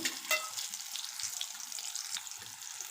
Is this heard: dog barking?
no